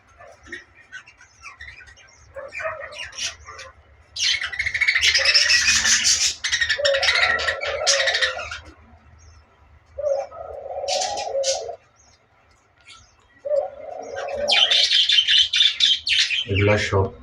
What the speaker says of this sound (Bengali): এই হলো আমার বাজিগার পাখি